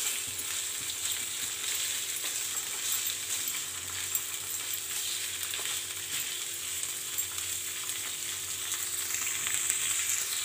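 Cubes of paneer frying in oil in a pan for a homemade paneer masala, giving a steady, bright sizzle with occasional stirring scrapes, close by and continuous with no talking.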